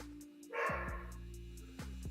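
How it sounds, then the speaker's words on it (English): A couple of dogs barking in the background, muffled and fairly faint, with short yips recurring over a steady low hum. "Excuse my dogs."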